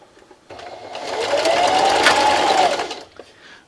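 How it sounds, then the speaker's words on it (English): A sewing machine runs a straight stitch through fabric for a Halloween treat bag, a close, steady mechanical whir that starts abruptly, holds for about two and a half seconds, then stops. "Right, so I'm over here at the sewing machine."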